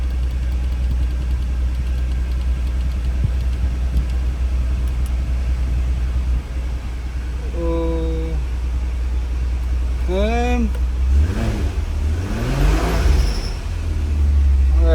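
An Audi TT 3.2 engine runs at a steady idle throughout, a low constant hum with one rising rev partway through, heard close up with people talking over it.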